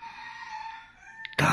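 A rooster crows in one long, drawn-out call that trails off, followed by a burst of louder noise at the end, heard near a Philippine home meal during Holy Week.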